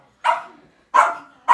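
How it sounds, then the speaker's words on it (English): A puppy barks three times in quick succession, each bark sharp and fairly close, with short silent gaps between them, at a Christmas gathering in New Zealand. "And you can see my puppy at the back."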